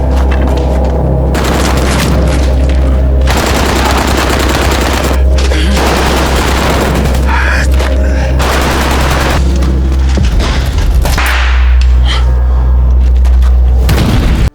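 Relentless machine gun fire echoes through a destroyed building during close-quarters fighting: loud, sustained bursts and booming impacts fill the whole stretch, with only brief pauses between volleys.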